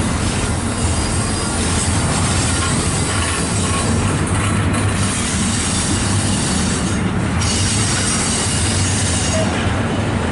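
A passing freight train rumbles loudly and continuously, its wheels squealing and clattering over the rails close by, with no talk.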